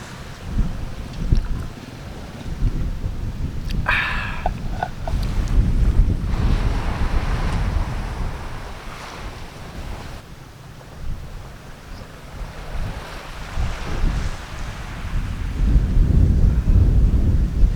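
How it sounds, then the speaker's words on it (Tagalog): Strong gusting wind buffeting the microphone outdoors, rumbling and roaring in waves, with a brief faint tone partway through. "Grabe ang hangin dito mga kapulutan."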